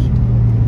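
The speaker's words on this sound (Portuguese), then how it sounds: "aquele som Ferrari, aquela essência de corrida que este carro tem" A Ferrari's engine rumbles steadily from inside the moving car, a deep low drone holding throughout with no voices over it.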